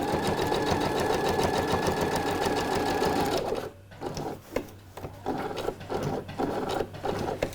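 Sewing machine stitching a seam along a traced line on trousers, a steady loud mechanical whir through the first half, then breaking into short bursts of stitching separated by brief pauses.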